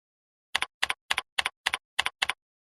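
Seven crisp, evenly spaced computer keyboard keystrokes while a username is typed, each a sharp double click, close and clear with silence around them.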